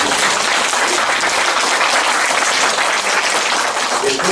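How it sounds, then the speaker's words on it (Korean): A crowd applauds steadily and fairly loudly at an environmental service awards ceremony, a dense continuous clapping that holds for the whole stretch. "박수도 한번 부탁드립니다"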